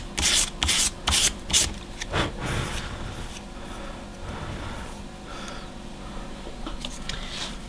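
Fine sandpaper rubbing over a small wooden ship model part, a few quick distinct strokes at first, then softer continuous scraping close by, alone without talk.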